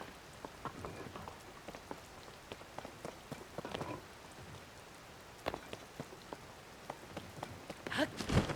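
Rain in the video game Zelda: Tears of the Kingdom, a soft, steady patter with scattered distinct drops hitting surfaces, quiet and close, with no talking.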